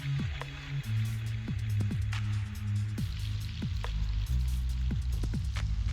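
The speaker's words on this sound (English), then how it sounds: "Let me rinse it real quick." Water splashes and trickles as a rooted Kalanchoe cutting is rinsed, a steady close patter with small irregular drips and no talk.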